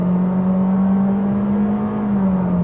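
A 2026 Honda Civic Sport with a CVT pulling away under throttle, its engine a steady, loud drone that holds at a nearly constant pitch from start to finish.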